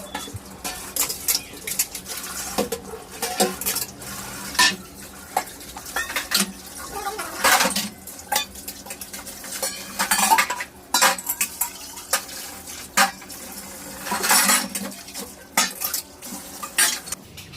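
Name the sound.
mother washing dishes, pots and utensils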